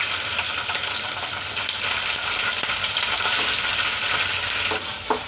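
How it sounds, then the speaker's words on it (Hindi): Paneer frying in a pan at a dhaba-style kitchen, a steady loud broadband sizzle running throughout with faint scraping and a small clink near the end, no voices. "पनीर फ्राई कर लेंगे"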